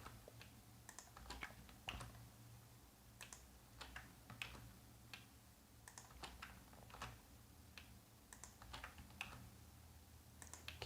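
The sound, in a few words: typing code on a computer keyboard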